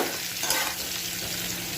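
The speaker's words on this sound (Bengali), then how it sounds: "একটু ভাজা ভাজা করে নিচ্ছি নুন হলুদ দিয়ে।" Potatoes seasoned with salt and turmeric fry in a pan for an Indian aloo dum, giving a steady close sizzle with light stirring scrapes throughout.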